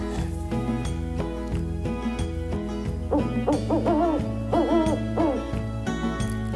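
An owl hoots in an animated children's story, a run of rising and falling hoots in the middle of the clip over a bouncy, rhythmic music backing.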